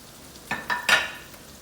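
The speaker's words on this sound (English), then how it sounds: "I'm going to stir that so that it forms a bit of a paste" A utensil scrapes through a thickening paste in a hot frying pan while making meatloaf gravy, giving three short scraping strokes over a low sizzle.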